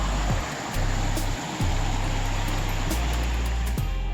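Constant rush of a river flowing beside a hiking trail near Panther Creek Falls in Georgia, a steady hiss close by, under low fluttering rumbles that stop and start.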